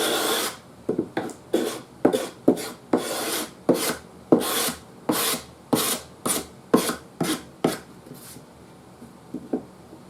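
A sharpened wood chisel drags with the grain across the old finish of a 1940s Crosley radio cabinet, making a series of short, rasping scrapes in an even rhythm, close and crisp, with no talking.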